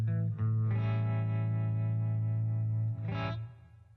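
Rhythm guitar with a scooped, effects-laden tone plays sustained chords within a band mix alongside bass, loud and steady before tapering off at the end.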